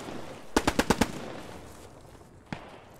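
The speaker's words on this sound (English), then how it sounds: "Por aquí escucho una MG." A quick burst of five machine gun shots in the Post Scriptum war game, sharp and evenly spaced, then a single further shot after a short pause, over faint background ambience.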